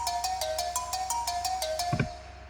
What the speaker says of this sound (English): So the cowbell sounds like this